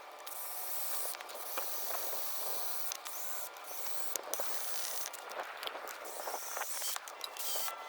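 A drill with a 5/8 bit drills out the rivets of a front lower ball joint on a Chevy Equinox/GMC Terrain, a steady, harsh grinding hiss with sharp metallic catches and brief pauses, close and continuous.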